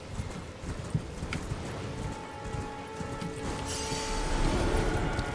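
Horse hooves clip-clopping at a steady trot in Elden Ring, close and rhythmic, with mechanical game sounds and a brighter rush of noise layered in toward the end.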